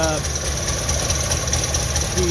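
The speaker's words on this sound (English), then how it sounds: "it's another two-stroke morning with a little Subaru 360 warming up here" A small Subaru 360 two-stroke engine idles while warming up on a morning start, with its air filter elbow removed and a tendency to flood; a steady, close, continuous buzzing putter with no break.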